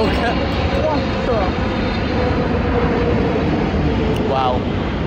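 A propeller airplane passes overhead near Intel's headquarters in Silicon Valley, a steady loud broadband engine drone filling the whole stretch without letting up, heard outdoors with a person talking over it.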